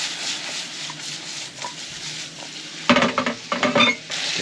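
Mushrooms and onion sweating in a wok give a soft steady sizzle, then utensils scrape and clatter against the metal in a quick burst of stirring near the end.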